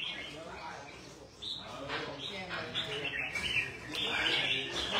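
A caged songbird in Dong Nai, Vietnam, gives rapid, high bursts of chirps that come repeatedly and close by, over a murky background.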